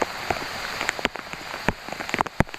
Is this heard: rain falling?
yes